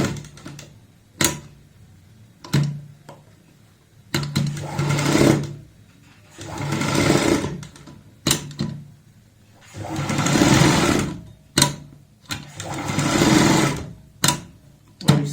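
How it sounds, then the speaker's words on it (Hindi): A sewing machine stitching a kurta, running in repeated bursts of steady mechanical whirring separated by short pauses and clicks, loud and close with no talking. "पलटने के बाद ऊपर से सिलाई लगा लेंगे।"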